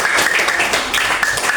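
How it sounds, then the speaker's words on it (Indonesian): A short burst of clapping from students in a classroom, brisk and close, lasting under two seconds. "Tepuk tangan untuk Cesar."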